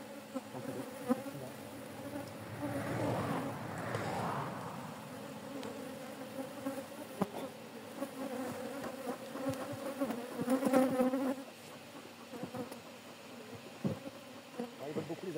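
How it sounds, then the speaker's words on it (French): Honeybees fly in large numbers around an open hive of an aggressive colony during an inspection, making a dense, steady close-up buzz that swells midway, with a brief murmur of a voice at times. "ils volent beaucoup les abeilles, mais elles n'attaquent pas"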